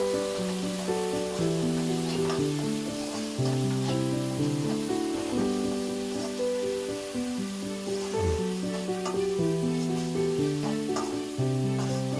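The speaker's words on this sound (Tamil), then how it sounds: "வெங்காயத்தை ஆட் பண்ண போகிறோம்" Finely chopped onions sizzling and frying in a pan for a Tamil crab gravy, a steady close hiss of hot oil with stirring throughout and no talk.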